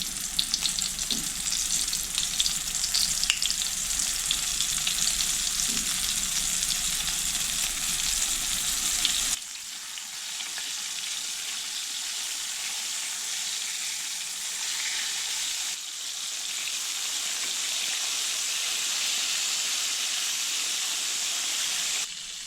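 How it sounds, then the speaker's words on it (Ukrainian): Fish sizzles and crackles steadily in hot vegetable oil, a continuous close hiss with faint pops, briefly shifting in tone partway through. "Викладаю рибу в розігріту олію та буду обсмажувати з двох сторін до золотавого кольору до готовності"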